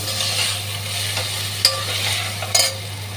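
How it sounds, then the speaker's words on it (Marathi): Tomatoes being sautéed and stirred in a pan for dal khichdi, a steady soft frying hiss with a few brief scraping stirs of the spatula, close and alone. "टोमॅटो चांगला नरम होईपर्यंत परतायचं आहे।"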